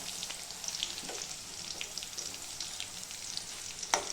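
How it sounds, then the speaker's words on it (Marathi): Garlic frying in hot oil makes a steady close sizzle with faint stirring scrapes and a brief sharper crackle near the end. "लसूण तर तेलामध्ये चांगला फ्राय करून घ्यायचा"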